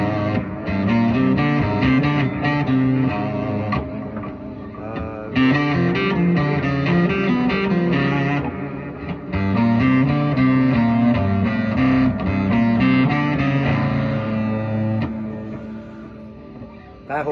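A whole tone scale pattern played continuously on a distorted, effects-laden instrument, dense sustained notes at steady loudness with a few brief dips, no voice.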